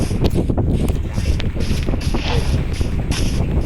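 Gusty wind buffets the microphone with loud rumbling bursts, steady and close throughout.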